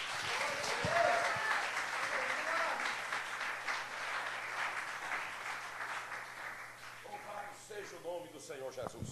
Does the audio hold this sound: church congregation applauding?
yes